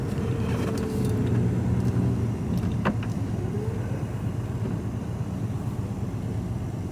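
A 1962 Mercedes-Benz 300d limousine rolling slowly with its engine running, a steady low drone with faint whining tones and a brief sharp click partway through, heard alone.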